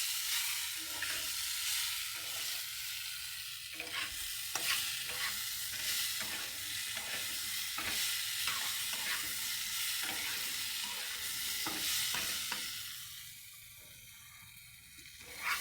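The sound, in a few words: dal and vegetable curry sizzling in a pan on gas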